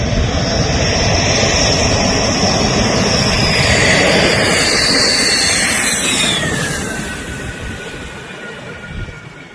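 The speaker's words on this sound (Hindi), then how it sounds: "वो एक बहुत ही सुंदर दृश्य जब अंबाला एयरबेस पे राफेल विमान उतरा।" Rafale fighter jets landing at Ambala airbase make a loud, steady roar with a rising engine whine that sweeps down and fades slightly toward the end, with no voices.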